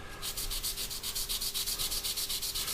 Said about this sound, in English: if you take a medium type of sanding sponge and you just gently